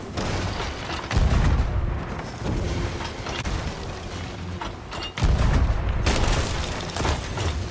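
Deep booming cannon blasts from the video game Sea of Thieves go off repeatedly, two heavy thuds standing out over a constant rumbling naval battle din.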